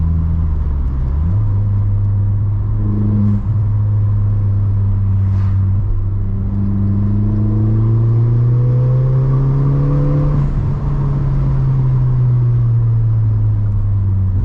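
A modified Ford Fiesta ST3 with a Mountune engine upgrade and aftermarket exhaust revs steadily and close by, its engine note rising and falling in a deep continuous drone with a rumbling exhaust and no talk over it.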